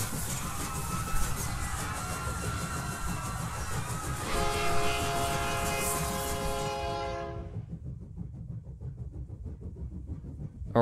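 A passenger train rushes past in a horror story setting, its horn blaring in a sustained chord over the rolling rumble of wheels, then the horn cuts off abruptly while the rumble fades into near silence.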